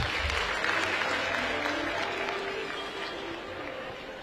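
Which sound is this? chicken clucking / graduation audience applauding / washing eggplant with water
graduation audience applauding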